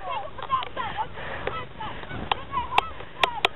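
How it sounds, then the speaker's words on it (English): Ducks honk and quack in short, scattered calls while being chased outdoors, a few sharp cries standing out, with wind noise and people talking in the background. "Well, Jake, how do you feel in this whole duck chasing adventure"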